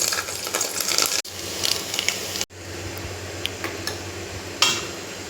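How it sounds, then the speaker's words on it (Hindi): Garlic and dried red chillies fry in hot oil in a wok, giving a steady crackling sizzle with occasional scraping and clinking of a stirring utensil and a couple of abrupt breaks in the sound. "मैं कढ़ाई में तेल डाल रही हूँ, है ना। मैं डालूँ लहसुन और खड़ा मिर्च"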